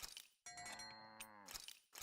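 A cow on the ranch in the video game Tales of Arise gives one clear, drawn-out moo between short bursts of game sound effects.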